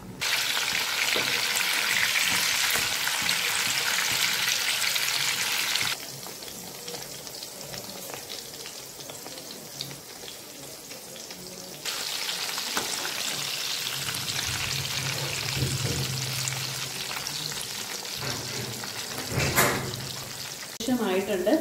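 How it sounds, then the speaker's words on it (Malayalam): Kebab patties for a homemade burger fry in a pan, giving a loud, close, continuous sizzle that eases off for a while and then flares up again, with a brief voice heard near the end. "ആയിട്ടുണ്ട്, ഞാനത് വറുത്ത് കോരി അങ്ങ് എടുക്കുവാണ്"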